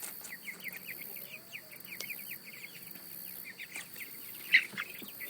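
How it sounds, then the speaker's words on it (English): Scattered short chirps and clucks from a group of birds, fairly steady and moderately faint, with one louder squawk near the end. "Not very nice chickens."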